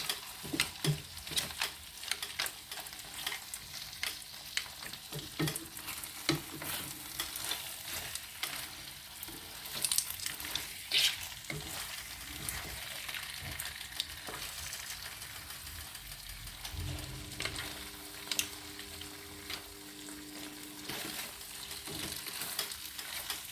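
A seafood Spanish paella cooks in its pan, sizzling and frying steadily with occasional stirring scrapes and soft patters, close and continuous throughout.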